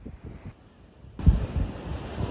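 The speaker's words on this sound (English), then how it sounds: "Oh, it's windy as well." Gusts of wind buffet the microphone on an exposed coastal walkway, with a rough low rumble that surges into a louder, broader roar just past the midpoint.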